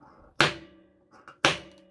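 Two sharp mechanical clunks of a hole punch going through paper, about a second apart, close by, each with a short ringing tail, with a faint softer click between them.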